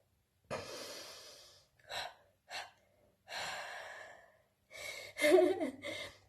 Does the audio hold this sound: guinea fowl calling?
no